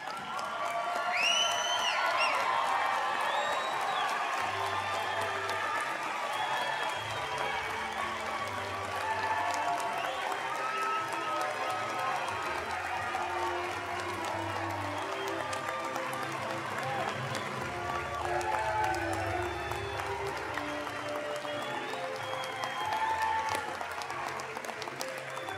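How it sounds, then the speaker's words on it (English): Sustained applause and cheering from a large crowd at a fall 2023 university commencement ceremony honoring graduates, dense steady clapping with occasional whoops running throughout, and a low hum of voices underneath. "Let's get on our feet and give a round of applause for these incredible graduates."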